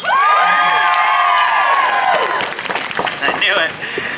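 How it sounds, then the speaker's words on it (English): A large crowd at the St Louis Renaissance Festival cheers and shouts loudly, with children's high voices among them, then the roar thins into scattered whoops and clapping. "A round of applause if you're here to see my show right now."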